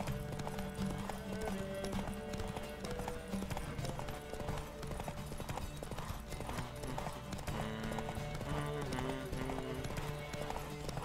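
Rapid clip-clop of a horse galloping in a race in The Witcher 3, steady hoofbeats with a brief neigh over game music and ambience, no speech heard.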